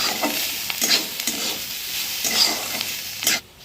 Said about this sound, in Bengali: করলা ভাজছি।